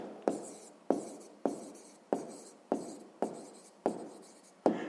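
Pen writing on paper for a sixth-grade math exercise answer, a regular series of eight short scratchy strokes, each starting with a crisp tap and trailing off, close and fairly quiet with no talking.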